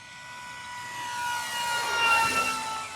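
An E-flite F4U-4 Corsair V2 radio-controlled model plane with a 1.2 m wingspan whines overhead in calm weather, a steady engine tone that swells louder and shifts pitch as it passes, with no voices.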